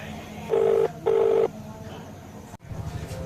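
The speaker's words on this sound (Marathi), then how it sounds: "छोटू फोन लावून पाहतो." A telephone being dialed gives two steady, evenly spaced beeps, each lasting about a third of a second. A quieter tone and background murmur follow.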